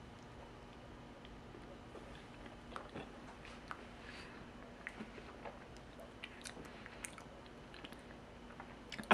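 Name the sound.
chewing raw honeycomb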